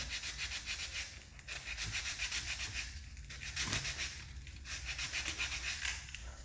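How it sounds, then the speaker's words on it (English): Sandpaper rubs back and forth in short, even strokes, a dry scratchy sound repeating close by at a steady rhythm with a few brief pauses. "Just sanding a little bit off all the way around."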